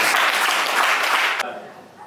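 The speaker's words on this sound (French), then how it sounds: "Acclame tes forces." A church congregation at a prophetic worship service claps in a dense, loud burst of applause, which then cuts off abruptly and leaves fading room noise.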